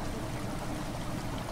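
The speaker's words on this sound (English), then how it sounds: "Water has begun to flow and fill the chamber." Water rushes and gurgles steadily into a chamber in the video game Amnesia: The Dark Descent, a continuous broad flowing wash, moderately loud and close, with no speech over it.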